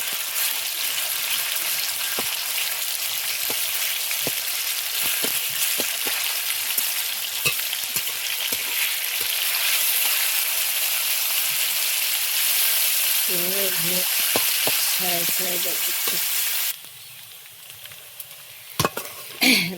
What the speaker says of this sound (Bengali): মাংসটা ছাকা তেলেই ভাজবো।